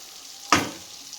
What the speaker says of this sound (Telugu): ఒకసారి ఇలాగా తిప్పాలండి తిప్పితే ఇంకోవైపు కూడా బాగా ఫ్రై అయిద్దండి